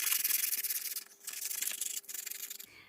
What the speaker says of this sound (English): I'm just going to sand the frames a little bit